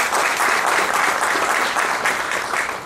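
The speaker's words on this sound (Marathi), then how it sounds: "गौतम साहेबांसाठी खरंच जोरदार टाळ्या होऊन जाऊ द्या" An audience at a lecture breaks into strong applause, a dense, sustained wash of many hands clapping with a gentle swell that holds for a few seconds.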